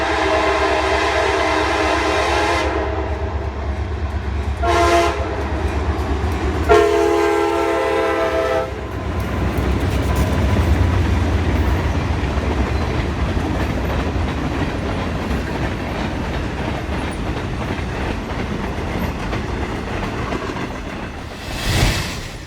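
A mixed freight train rolls past Ward Hill in Haverhill, Massachusetts, in a steady snowstorm, its continuous loud rumble and wheel clatter filling the scene, with strong horn blasts near the start and a brief rise near the end.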